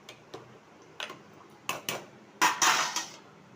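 Sama millet in a cooking pot as boiled buttermilk goes in and a spoon stirs it, giving a few separate clinks and scrapes of utensil on metal that get louder and closer together toward the end.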